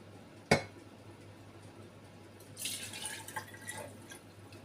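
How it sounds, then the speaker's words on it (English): A sharp clink near the start, then a soft trickle of melted beef tallow pouring into a glass jar with a few small splashes. "So I'll use this bigger glass jar first, and I will just pour it in really slowly."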